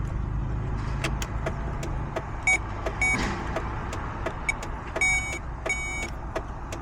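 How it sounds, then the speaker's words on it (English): The turn signal on a DSM car with a newly installed ECUmasters ADU ticks in a sharp, regular click sequence over a low idle hum, with a few brighter electronic beeps mixed in. "That's turn signal."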